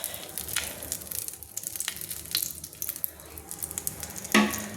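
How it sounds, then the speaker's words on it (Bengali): Mustard oil goes into a hot kadai previously used for frying prawns, setting off a soft, crackling sizzle with scattered pops, then a brief louder clatter near the end. "এবার আমি ওই চিংড়ি মাছ ভাজা কড়াইতে আমি দিয়ে দিচ্ছি সর্ষের তেল।"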